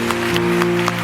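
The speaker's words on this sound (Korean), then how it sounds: "우리 함께 하나님께 영광의 박수 올려드리면서" A church congregation claps in a steady, even rhythm over sustained music, the claps loud and close.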